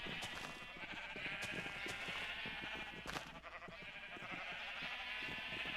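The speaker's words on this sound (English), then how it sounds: "Where are our white sheep at?" Sheep in the video game Minecraft bleat repeatedly over a dense, continuous layer of overlapping game sounds, the bleats coming in quick, uneven bursts at moderate loudness.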